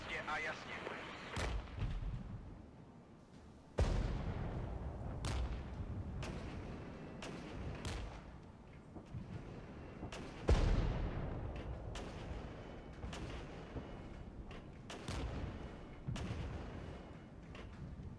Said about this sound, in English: we don't want to get pummeled by that artillery